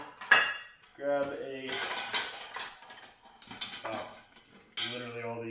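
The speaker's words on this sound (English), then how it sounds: "Move all of my utensils." Kitchen utensils, among them a small spatula, are shifted about beside a cast iron skillet, giving scattered metallic clinks and clatters in irregular bursts, close and fairly loud.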